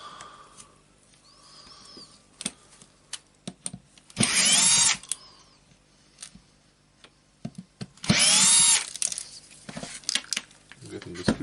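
Power screwdriver removing Torx screws from a Berner BROS 150 orbital sander with a power fault, two loud whirring bursts amid clicks, handling clatter and someone talking.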